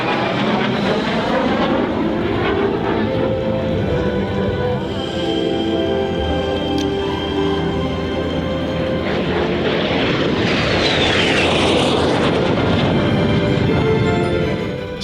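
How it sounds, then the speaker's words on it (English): A Canadian-built T-33 jet roars loud and close over the Smyrna, Tennessee airshow, a continuous heavy rumble that swells and shifts in pitch as the aircraft passes. "This is a Canadian-built version of the T-33."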